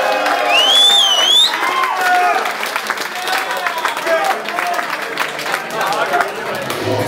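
A rap battle crowd cheers, whoops and claps loudly and continuously, with a voice calling out over the noise that then settles into a lively, sustained applause.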